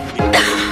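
A single sharp cough, loud and close, in a Spanish-language TV commercial for cough medicine.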